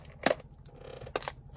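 Miniature dice tumbling into a glass jar in two small clattering bursts, close and crisp against a quiet room.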